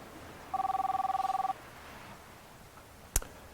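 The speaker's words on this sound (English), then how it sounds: "You may like the sound of your phone when you get a text message." A phone text message alert sounds as a short rapid electronic trill lasting about a second, followed later by a single sharp click in a quiet room.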